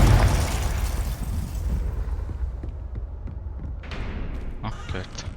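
Confringo fire-blast spell in Hogwarts Legacy, a loud booming explosion at the start that fades into a rumbling tail, followed by a couple of smaller popping bursts, all under in-game ambience.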